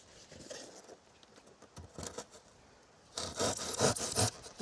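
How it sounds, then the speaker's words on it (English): A handsaw cuts through a foundation insulation board in quick strokes, the rasping starting sparse and faint, then turning loud and dense for the final second and a half, close by with no voices. "Speed saw, guys."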